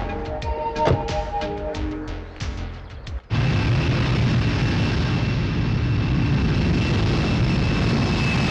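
An airplane flying in a Telugu feature film scene, a loud sustained broadband engine roar that cuts in abruptly after a few seconds of musical score and holds steady to the end.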